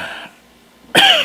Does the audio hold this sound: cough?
yes